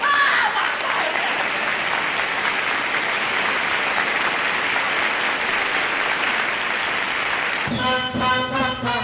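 Audience applause from a live vinyl recording of a concert set, a dense, steady wash of clapping that carries on at full strength for most of the stretch before a band starts playing near the end.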